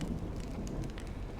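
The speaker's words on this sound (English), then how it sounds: "You're lucky to have found shelter from the rain." Steady rain in Honkai: Star Rail, a soft even patter of drops on surfaces, continuous and fairly quiet.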